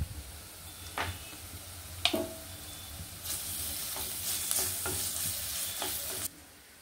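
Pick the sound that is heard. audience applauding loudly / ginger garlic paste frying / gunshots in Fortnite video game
ginger garlic paste frying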